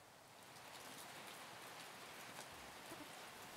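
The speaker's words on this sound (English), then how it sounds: "This rain, it feels so amazing against metal." Steady rain patters on metal in a video game, a soft, constant hiss of falling drops with occasional louder spatters.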